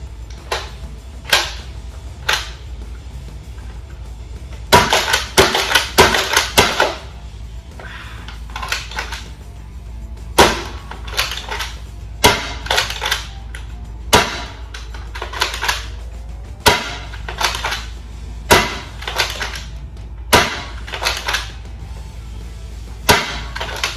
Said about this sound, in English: Now shooting the full length darts.